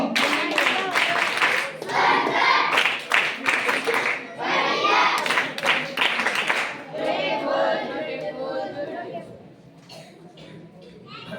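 A crowd of schoolchildren and guests claps loudly at a birthday celebration, bursts of hand applause and cheering under a speaker's voice, fading toward the end.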